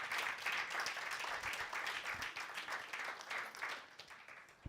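A church congregation claps and cheers at length, with dense, steady applause that fills the room and sustains without pause.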